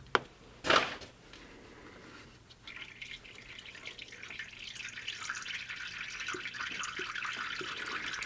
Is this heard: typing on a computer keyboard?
no